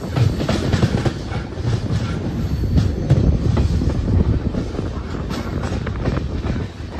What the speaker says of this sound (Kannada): ಆನ್ ಟೈಮ್ ಬರ್ತಾ ಇದೆ ಇದು ವಾಸ್ಕೋ ಎಕ್ಸ್ಪ್ರೆಸ್